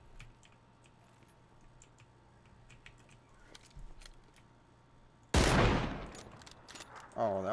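Gunfire in the video game PUBG comes first as light clicks and distant shots, then a sudden loud close burst of rapid shots, and a second blast follows near the end.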